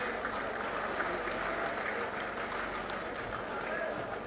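A rally crowd at an AAP public meeting in Fatehabad claps in a dense, sustained burst of applause to welcome political leaders, with a voice carrying over the noise.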